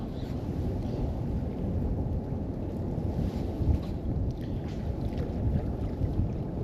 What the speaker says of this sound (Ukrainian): Зараз на вечір заважає вітер